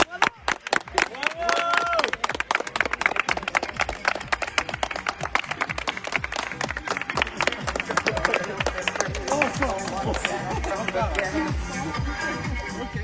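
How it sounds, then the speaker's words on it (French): Applause and cheering after a Guinness World Record cycling attempt riding no-handed with one leg, a burst of clapping from a crowd with voices talking over it, lively and close. "On peut l'applaudir. Bravo."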